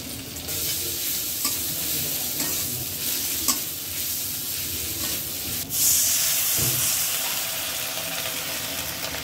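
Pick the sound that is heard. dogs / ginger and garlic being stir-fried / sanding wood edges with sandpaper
ginger and garlic being stir-fried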